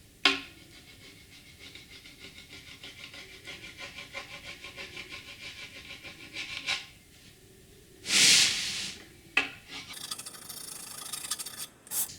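Wax rubbed by hand onto the bearing edges of Gretsch Stop Sign drum shells: a steady, soft raspy friction near the mic, with a few louder scraping bursts toward the end.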